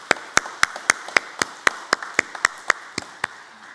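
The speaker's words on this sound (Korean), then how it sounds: "우리 큰 격려의 박수 다시 한번 해주시겠습니다" A church congregation clapping in a slow, even unison rhythm, about a dozen sharp claps in steady succession with no voices over them.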